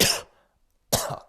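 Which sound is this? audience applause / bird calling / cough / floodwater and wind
cough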